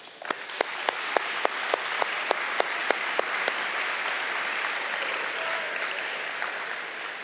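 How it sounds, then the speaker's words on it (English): Banquet audience applauds for competing aviation teams, sharp individual claps standing out at first over a dense, steady wash of crowd clapping that carries on for several seconds. "One round of applause for these teams."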